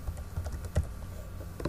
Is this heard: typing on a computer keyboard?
yes